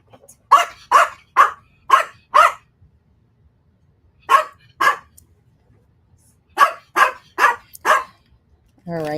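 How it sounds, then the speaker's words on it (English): A dog barks in short bursts of three to five close, loud barks separated by pauses, with a brief whine at the end and no talk. "As you can hear a dog in the background,"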